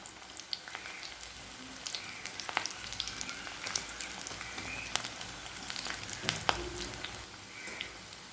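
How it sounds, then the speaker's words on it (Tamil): Cauliflower 65 pieces frying in hot oil over a medium flame, a steady close sizzle full of crackling pops that runs through the whole stretch with no voices. "இப்போ எண்ணெயில் போட்டு பொரிக்க ஆரம்பிச்சிடலாம்."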